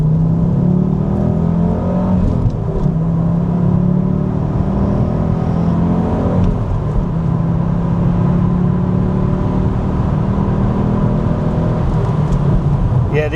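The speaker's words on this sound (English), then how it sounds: "We'll do a little second gear pull for you while there's no one about." An Audi Quattro rally car pulls hard in second gear, a loud steady engine drone rising in pitch as it accelerates, with a brief dip partway through as it shifts, close and continuous throughout.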